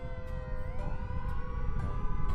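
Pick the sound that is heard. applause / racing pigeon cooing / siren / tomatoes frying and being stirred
siren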